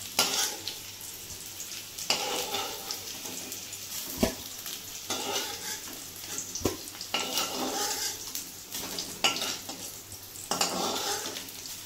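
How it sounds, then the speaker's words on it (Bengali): Potato pieces fry in a pan with salt and turmeric, a loud close sizzle broken by frequent scrapes and clanks of a spatula against the metal, plus one sharp knock partway through. "এবার আলুটাকে একটুখানি ভাজা ভাজা করে নেব"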